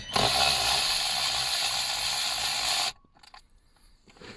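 A ratchet spins loudly in a steady, rapid clicking run for about three seconds while undoing bolts on a BMW 1 Series or 3 Series E90 hand brake assembly, then stops, leaving faint handling noises.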